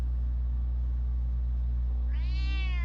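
A cat in the Batman Telltale video game gives a single short, clear meow near the end, over a constant low electronic hum.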